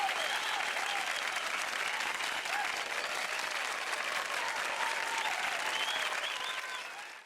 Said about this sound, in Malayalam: എല്ലാവർക്കും നല്ലൊരു കൈയ്യടി.